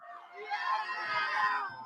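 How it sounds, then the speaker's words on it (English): A crowd cheers and shouts in a short burst of excited, high-pitched voices swelling together, fairly close and loud, then tailing off at the end. "They're cheering."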